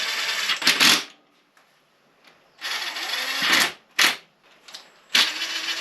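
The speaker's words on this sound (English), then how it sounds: "I'm just going to drive a couple of bolts in to make sure it stays in place." Power tool driving bolts into a Triumph Daytona 955i motorcycle during mechanical work: several loud whirring bursts of a driver, two long runs and short blips, separated by quiet gaps.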